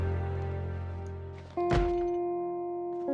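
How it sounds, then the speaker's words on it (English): Heavy thump in Project Zomboid as a zombie pounds on a door: a single loud, dull blow lands over a steady droning game background, with tonal hum continuing after it. "before I hear thumping on the door"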